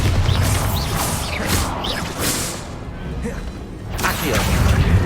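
Flipendo is cast in Hogwarts Legacy: a series of swishing whooshes and thumping impacts, loud and close, dipping into a brief lull before another forceful surge at the end.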